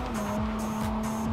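A car drifts in the Cyberpunk 2077 video game with a continuous, loud engine drone and squealing tires. Short skid sweeps come back every fraction of a second.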